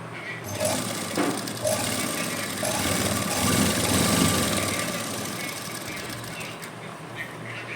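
A sewing machine stitches cord piping onto fabric with a continuous close mechanical whir and chatter that runs unbroken throughout.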